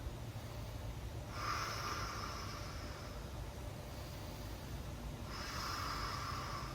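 Slow, audible breaths during a yoga pose, two long airy exhalations a few seconds apart, close and soft over a steady hiss of room noise, with no talking.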